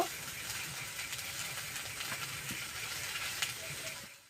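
Chopped capsicum, cut into thick chunks, stir-fried in a pan for a poha and paneer snack, giving a steady soft sizzle with scattered scraping clicks from stirring, fairly faint and continuous throughout.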